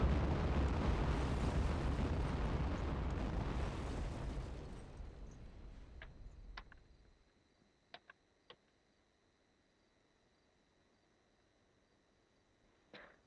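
Large explosions rumble loudly in a war video game, then fade into quiet, followed by a few sharp, distant pops and cracks like fireworks.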